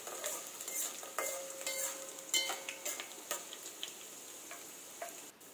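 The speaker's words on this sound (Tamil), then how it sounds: "2 வெங்காயத்தை குட்டி குட்டியாக கட் பண்ணி வச்சுருக்கேன், அதை சேர்த்து நல்லா முருக பொரிய விட்டுறலாம்" Chopped small onions frying crisp in hot oil with mustard seeds and fenugreek, a soft steady crackle with occasional stirring clinks and ticks, fairly quiet and close with no voices.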